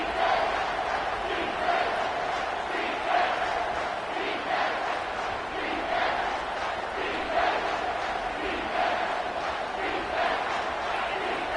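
A home crowd in an NCAA football video game roars on third down, a dense, continuous wall of cheering and shouting that swells and dips in waves, with a faint voice underneath.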